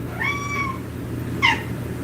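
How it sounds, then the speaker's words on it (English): A house cat meows twice, a drawn-out meow followed by a shorter one, close and clear in a quiet room over a low hum. "You see my cat? I did not know she was in my room."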